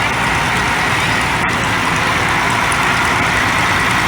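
A 1970 Case Model 1470 tractor fitted with crab steering rolls past in an old engine show parade, giving a loud, continuous, rumbling engine drone that stays steady and close throughout.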